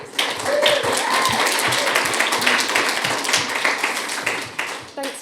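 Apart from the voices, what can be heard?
conference audience round of applause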